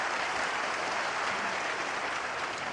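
A snooker crowd at the Shanghai Masters 2024 claps in a dense, even burst of applause that fills the whole moment, steady and fairly loud, with no voices over it.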